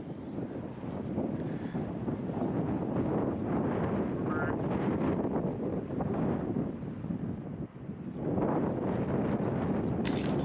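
Wind buffets the microphone on a golf course at The Woods at Lakeshore as a 40-foot putt is lined up into a headwind, a loud, steady rumbling roar that barely lets up for the whole stretch.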